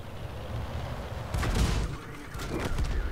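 Tank cannon fire in World of Tanks, a heavy boom over a steady engine rumble, followed by a second burst of shots a second later, fairly loud against the background.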